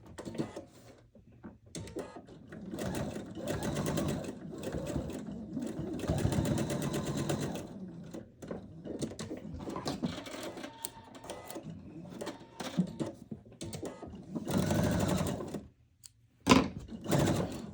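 A sewing machine stitching a quilt runs in a series of short and medium bursts of rapid needle clatter, separated by brief pauses and small handling noises, close up.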